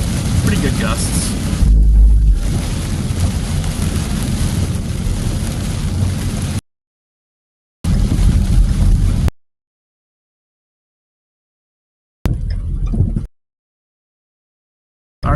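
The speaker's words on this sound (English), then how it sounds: "Pretty good winds through here. Nothing severe, but pretty good gusts." Strong wind gusts during a storm chase roar and buffet loudly in a continuous rushing blast. The sound breaks off into silence and then returns in short rough bursts.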